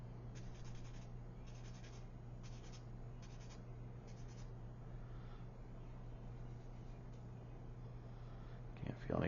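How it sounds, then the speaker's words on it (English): Sandpaper scrapes away sprue nibs on the hull of a 1/200 scale USS Fletcher DD 445 model ship in quick, faint strokes repeating in short bursts over a low steady hum, with a voice briefly heard near the end. "I'll go ahead and sand off our"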